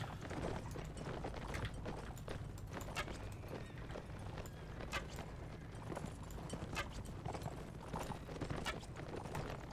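Horse hooves clip-clop in steady rapid rhythm in the Mount & Blade video game, a continuous galloping patter over low rumbling ambience, with no talk.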